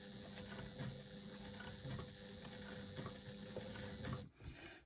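A sewing machine stitches slowly and carefully, its soft rhythmic mechanical ticking repeating steadily at close range and then stopping near the end, with no talking.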